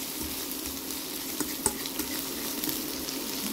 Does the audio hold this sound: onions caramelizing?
yes